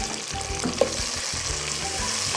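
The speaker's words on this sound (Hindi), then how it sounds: "प्याज सुरख जो हो जाए तो इसमें 3 से 4 अदद कटे हुए टमाटर शामिल करें।" Chopped tomatoes hit browned onions frying in oil for a lobiya (black-eyed bean) karahi, giving a steady close sizzle with a brief sharper splash as they land, and no voices.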